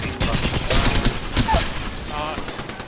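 Gunfire in the battle-royale video game Realm Royale comes as a quick fusillade of loud, close shots and rapid bursts. A player talks over it.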